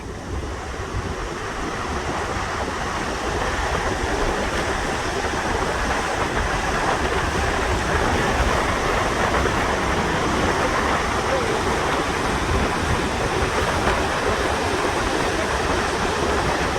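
A constant, dense roar of falling water fills the whole stretch, broad and unbroken with no pauses or voices.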